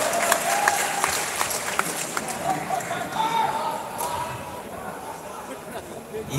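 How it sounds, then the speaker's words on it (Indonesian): Listeners at an Islamic religious lecture gathering applaud the moderator with brisk clapping that thins out gradually, with some crowd murmur underneath. "Tepuk tangan untuk moderator."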